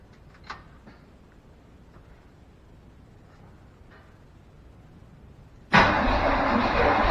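Fuel pump priming after switching tanks on a short-bed Chevrolet C10 pickup parked for 16 years: a few faint clicks, then a sudden loud, steady whirring buzz that starts near the end and keeps going without a break.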